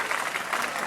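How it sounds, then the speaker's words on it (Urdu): Audience applauding at a school gift ceremony honouring a teacher, a steady dense patter of many hands clapping together without pause. "تالیوں کی گونج میں تالیاں چلتی رہیں"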